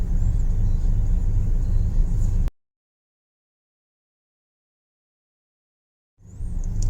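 A cone penetration test truck's engine gives a steady, close, low rumble that cuts out completely for a few seconds and then resumes just as before.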